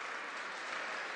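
Basketball fans in a Lithuanian LKL league arena applaud as an injured player gets back up off the court, a steady, dense wash of clapping throughout, fairly distant and even.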